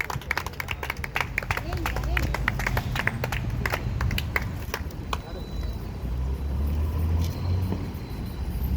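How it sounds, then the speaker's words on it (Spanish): A crowd claps with sharp, scattered slaps at an outdoor protest rally in Peru defending the state oil company, with voices and traffic rumbling underneath. "Fuerte aplauso, fuerte aplauso"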